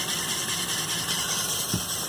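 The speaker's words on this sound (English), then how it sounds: "So if I turn it on, the motor runs." A Lego Technic 42128 heavy-duty tow truck's small electric motor drives its compressor with a faint, steady whirring hum, and a brief soft knock comes near the end.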